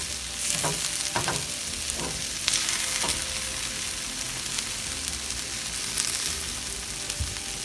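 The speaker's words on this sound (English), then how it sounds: "browning the meat" Ground beef sizzles and fries steadily in a stainless steel pan, with a few scraping stirs of a utensil against the metal near the start.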